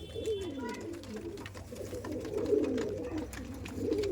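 Kaldam pigeons, an old breeding pair kept at a home loft, give soft, repeated throaty coos. The cooing rolls on continuously at close range with faint background noise and no talking.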